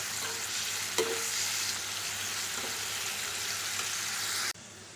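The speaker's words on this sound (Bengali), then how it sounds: "এই ঘিয়ের মধ্যে আমি কাজু কিশমিশটা ভাজব দিয়ে দিচ্ছি কাজু আর কিশমিশ স্লো ফ্লেমে ভালো করে এবার ভেজে নেবো" Cashews and raisins fry in ghee over a slow flame, giving a steady, dense sizzle that runs without a break until it stops abruptly near the end, with a faint clink partway through.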